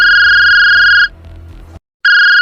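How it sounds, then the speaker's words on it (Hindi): A mobile phone rings loudly with a steady electronic tone for about a second, breaks off into a quieter stretch and near silence, then starts ringing again. "अचानक उसका मोबाइल बजने लगा।"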